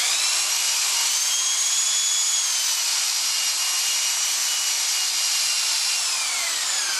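A JetStream Rotocork spins at very high RPM under light pressure on an alpine or snowboard base, giving a loud, steady, high-pitched whine that holds unbroken throughout.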